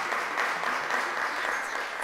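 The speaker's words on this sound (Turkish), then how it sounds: "Doğru cevap için iki masayı da alkışlıyoruz" Two teams on a Turkish religious quiz show are applauded by the studio, a steady, even burst of many hands clapping, close and continuous for about two seconds.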